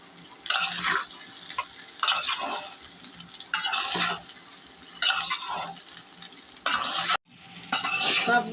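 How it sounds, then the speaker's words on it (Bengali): Rice being stir-fried with spices in a pan, with repeated bursts of scraping and stirring from a spatula against the metal, separated by quieter sizzling pauses, close and clear with no talking. "এখন সবগুলো ভালো করে ভাজা ভাজা করব।"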